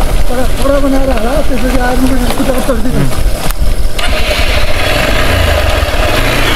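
Mahindra Xpulse motorcycle engine droning as it rides onto a rough dirt road, with rising and falling revs and a rider's voice talking over the engine noise.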